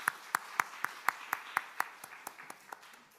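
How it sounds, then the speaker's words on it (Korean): Church congregation at a Sunday service giving a short round of applause, about a dozen distinct, evenly spaced claps that ring out clearly in a quiet room and gradually soften toward the end. "박수로 함께 축하하겠습니다."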